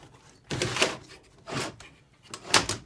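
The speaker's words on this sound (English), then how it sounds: "I'm going to open the window" A window in a workshop being opened, heard as three separate bursts of scraping and sliding, each about half a second long, spaced roughly a second apart and fairly close, with no talk.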